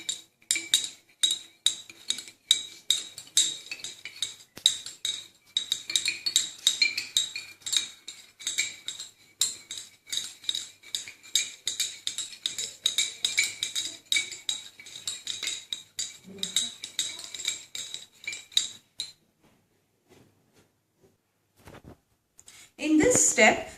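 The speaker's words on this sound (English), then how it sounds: "With the help of the glass rod, make a solution of it." A glass rod stirs salt and dishwashing liquid in a glass beaker, making rapid, steady clinking and tapping for about nineteen seconds. The stirring then stops, followed by a brief quiet stretch and a short rustle at the end.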